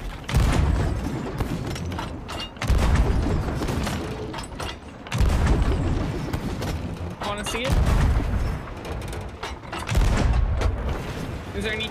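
Heavy cannon blasts boom in a repeating rhythm, about every two and a half seconds, with rumbling tails, mixed with Sea of Thieves game noise and talk.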